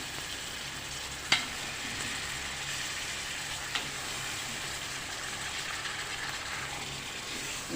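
Chicken and plantain frying in a pan, a steady close sizzle with two sharp clinks of a utensil against the pan as the pieces are stirred.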